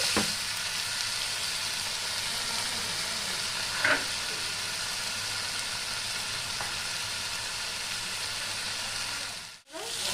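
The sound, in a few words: spice paste frying in a pan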